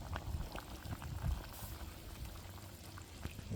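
A pot of home-grown mustard and turnip greens at a rolling boil, a steady close bubbling and churning with soft pops, faint and continuous with no talk.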